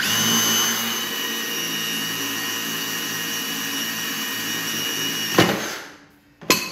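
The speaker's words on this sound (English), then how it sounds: "Let's drill it." A power drill whines steadily as it bores through a metal tube, then winds down and stops with a couple of sharp clunks.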